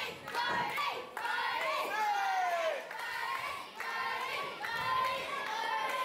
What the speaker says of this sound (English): Listen to those Bodhi chants.